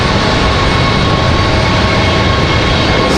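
An American Airlines jet departs Raleigh-Durham International Airport with a steady, loud, broadband engine roar that fills the whole stretch without letting up and carries no talk.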